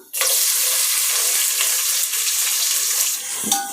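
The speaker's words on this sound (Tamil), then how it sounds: "பட்டை கிராம்பெல்லாம் பொரிஞ்சதும் வெங்காயத்தை சேர்த்துக்கலாம்." Steady loud hiss of onions frying in hot oil with cinnamon and cloves for mutton biryani, continuous and close, with a brief clatter near the end.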